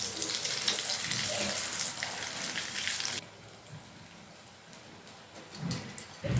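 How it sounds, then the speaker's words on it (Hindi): Bread rolls deep-frying in hot oil in a kadhai, giving a loud, steady sizzling hiss that cuts off abruptly partway through and leaves only faint low bumps and quiet room noise. "तीन फ्राई करेंगे हम इसमें।"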